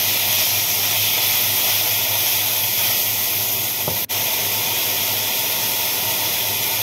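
Pork browning in a hot pan gives a loud, continuous hiss that stays steady throughout, close up, with one brief dip near the end and no voices.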